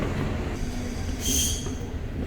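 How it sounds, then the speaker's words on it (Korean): A Los Angeles subway train rolls along the rails with a loud, continuous rumble and a brief high wheel squeal partway through, heard from close inside or beside the train. "너무 시끄러워 지하철."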